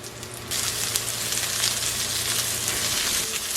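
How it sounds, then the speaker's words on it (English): Mushrooms sizzle loudly in hot olive oil, a steady crackling hiss that starts abruptly and carries on without talking. "add my mushrooms to the olive oil. You can see it's sizzling, right?"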